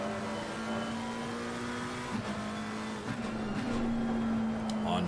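On-board engine of a McLaren GT race car lapping Monza, a steady high droning note with brief dips around gear changes before it climbs and holds loud and close.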